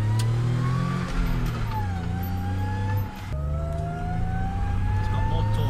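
A Jeep JK with a 3.8L engine and Sprintex supercharger revs loudly up close, the pitch climbing and dipping through several pulls, with a brief drop near the middle and people talking under it.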